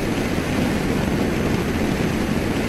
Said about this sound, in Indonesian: ada pesawat siapa itu